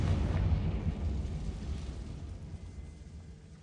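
Confringo fire spell blast in Hogwarts Legacy, a single low rumbling explosion that starts loud and slowly fades over a few seconds.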